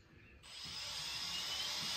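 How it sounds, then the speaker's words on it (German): Cordless screwdriver driving a screw into the side of an aluminium door canopy, with a quiet pause and then a steady, thin whirring that starts abruptly and holds for the rest. "einen Akkuschrauber oder ne, einen Schraubendreher selber und dann schrauben wir die Schraube oder eine Schraube jeweils hier in die Seite hinein"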